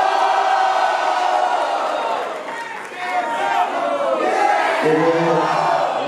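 Rowdy rap-battle audience at a Paraná state freestyle duel yelling and cheering in a sustained roar, dipping briefly midway then surging again, with a host's voice cutting through near the end.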